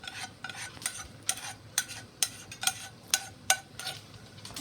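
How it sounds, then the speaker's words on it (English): A spoon stirs rice and vegetables in a soup pot, scraping in a steady series of distinct scrapes and clinks roughly every half second, close and fairly quiet over a soft background hiss. "And then you stir that really good, and then we'll coat all the vegetables and the rice"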